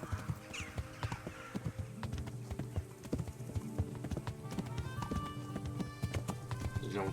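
Horse hooves in the medieval video game Kingdom Come: Deliverance, a quick continuous clip-clop of a horse moving at pace, fairly close, with faint snorts and no talk.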